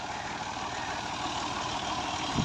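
Made in England 135 tractor, a 1968 model, with its engine running: a steady low diesel rumble and chug, close and continuous, with no talking over it.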